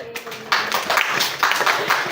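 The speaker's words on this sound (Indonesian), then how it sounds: "Tepuk tangan dulu." An audience claps in short, rhythmic bursts, fairly close and moderately loud, over about two seconds.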